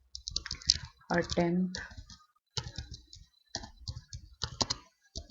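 Keyboard typing into a Microsoft Word text box comes in quick bursts of light clicks, interrupted by a person speaking over it.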